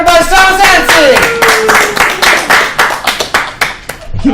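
A small group of people clapping, close and loud, in a rapid, uneven rhythm that thins out into scattered claps, with voices talking and calling out over the first part.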